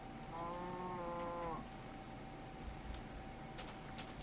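A cow in the Minecraft video game gives one drawn-out moo lasting about a second and a half, loud and close at the start, before fading into quiet game ambience with a steady tone and a few faint clicks.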